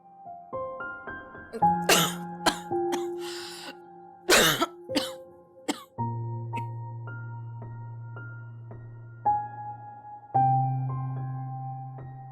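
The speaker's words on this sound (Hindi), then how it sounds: "आपको बहुत दिन से खांसी लगी हुई और ज्यादा दिन खांसी अच्छी नहीं होती।" A woman coughs repeatedly, several harsh bursts and throat clearings spaced over a sustained tonal music background, close and fairly loud.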